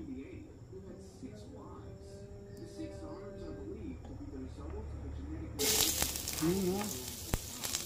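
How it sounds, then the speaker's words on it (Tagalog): Ginger sautéing in boiling cooking oil, a broadband sizzle that bursts in loudly partway through over a steady low background with tonal sounds, then continues crackling close by. "Siguraduhin natin na kumukulo yung mantika pag nagisa tayo"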